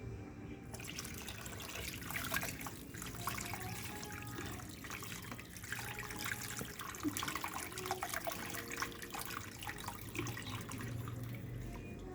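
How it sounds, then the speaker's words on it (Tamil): Tamarind water poured into a pan for brinjal kara kuzhambu, a soft continuous splashing and trickling of liquid that stays faint and even throughout, with no talking. "இப்போ வந்து நம்ம புளியை ஊற்றிடலாம்."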